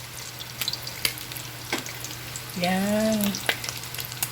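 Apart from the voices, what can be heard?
frying spam for fried rice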